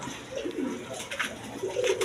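Pigeons for sale, various breeds, cooing softly in a low rolling murmur that rises and falls over about two seconds, with faint background noise and no voices.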